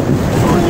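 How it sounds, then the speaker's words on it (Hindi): Turbulent river rapids rush and churn around a raft, a loud close, steady roar of white water with wind buffeting the microphone through the whole short moment. "फिर से राफ्टिंग रैपिड आ गया"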